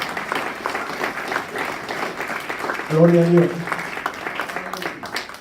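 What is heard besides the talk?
church congregation applause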